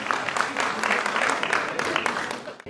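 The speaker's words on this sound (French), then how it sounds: "Merci de l'applaudir très très fort" Audience applause at a nonprofit's tenth anniversary celebration, steady dense clapping from a room full of people, fairly close, that fades out sharply just before the end, with a few voices underneath.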